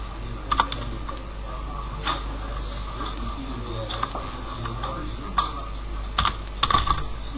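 Typing on a computer keyboard: scattered clicks and taps, some in quick clusters, play over a constant low hum with no talking.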